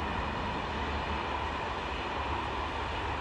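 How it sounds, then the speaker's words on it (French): A train passing at a distance, a steady broadband rumble and rolling noise throughout with no distinct pauses, heard alone outdoors. "Là-bas, il y a le train qui passe."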